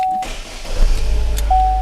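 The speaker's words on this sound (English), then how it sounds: "so I'll just turn the car on" A Holden Barina 1.6 petrol car starts up with a short chime and a steady warning tone, followed by the low, building rumble of the engine turning over and catching.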